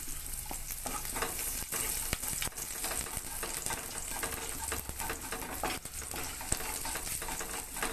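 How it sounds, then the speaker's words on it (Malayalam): Garlic frying in hot oil in a pan: a loud, continuous sizzle with occasional stirring scrapes and small pops, steady throughout and close up, with no talking. "എണ്ണ ഒന്ന് ചൂടായിട്ട് നമുക്ക് വെളുത്തുള്ളി ആദ്യം ഇട്ട് കൊടുത്ത് ഒന്ന് മൂപ്പിക്കാം."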